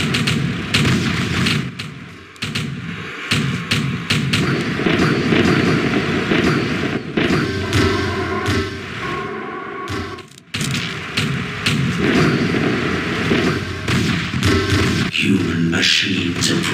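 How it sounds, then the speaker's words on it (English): Battle effects from the Martian attack: dense, continuous gunfire and artillery booms with thuds under layered music and voices, staying loud throughout with a brief dip near the middle. "We are receiving hostile fire."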